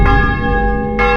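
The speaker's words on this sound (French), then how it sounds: "Vous entendez les cloches de Pâques?" A loud church bell rings at Easter with rich sustained tones, a second strike arriving near the end, close and resonant.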